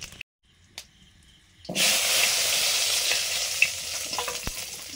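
Panch phoron and dried red chillies hit hot oil after a quiet start and a couple of light knocks, bursting into a loud, sustained close sizzle with scattered pops and crackles.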